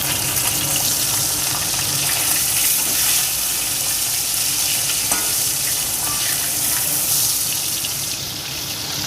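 Catla fish pieces fried with salt in hot oil produce a loud, continuous close-up sizzle with bubbling crackle and light stirring noises, easing slightly near the end.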